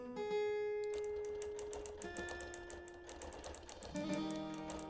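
A Bernina 72S sewing machine with a ruler foot stitches through wool in a steady, mechanical whir, with a brief pause and restart partway through.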